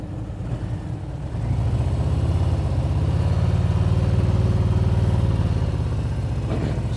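Motorcycle engine running steadily at low speed during a slow-ride practice exercise, with a continuous low drone that rises slightly after the first second and then holds.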